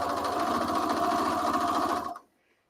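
A sewing machine runs steadily while stitching through many thick layers of a tote bag, a close, even mechanical whir that stops abruptly near the end.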